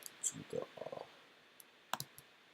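Scattered computer keyboard key clicks, a few quick bursts then isolated taps, faint and close in a quiet room.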